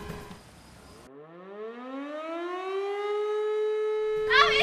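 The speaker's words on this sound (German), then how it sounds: "Die Sirene geht auf!" A civil defense siren winds up from a low pitch to a steady, loud wail, sounding alone after a brief burst of background noise and cutting off near the end.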